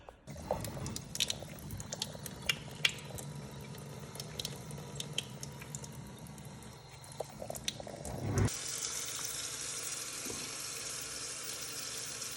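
A stainless steel water filter is rinsed under running water, a steady splashing stream with scattered clicks and handling noises that jumps to a louder, brighter gush near the end.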